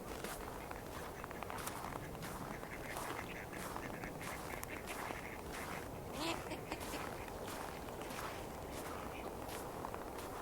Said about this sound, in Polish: Chodźmy zobaczyć, jak miewają się kaczki w ten mroźny, zimowy dzień.